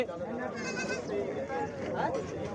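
Goats bleating amid a crowded village goat fair in Barnala district, Punjab, their calls mixing with a dense, steady murmur of people chatting nearby throughout.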